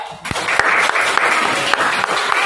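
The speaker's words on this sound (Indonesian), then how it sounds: "tepuk tangan untuk Fadil" A classroom of students applauds a classmate after his answer in a lesson, a dense, steady patter of many hands clapping close by for a couple of seconds, with a few sharper individual claps standing out and no talking over it.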